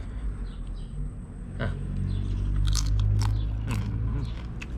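Crispy roasted rat skin being bitten and chewed up close, a few sharp crunches followed by moist, quieter chewing with no talking.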